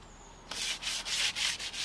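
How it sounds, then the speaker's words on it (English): Worn 80 grit sandpaper lightly sands a painted door between coats, a close, steady rasping in several back-and-forth strokes with brief dips between them, starting after a short quiet lead-in. "It's always good to give it a little denib, a little light sand in between coats, and for this I'm using some really worn down 80 grade sandpaper."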